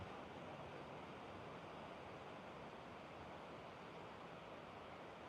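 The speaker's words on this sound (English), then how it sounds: "This ocean breeze." Ocean waves and a breeze at a San Diego oceanfront, a steady, even wash of surf and wind noise with no breaks, fairly faint, and no voices.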